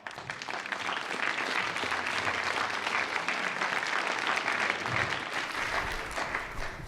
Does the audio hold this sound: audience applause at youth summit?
yes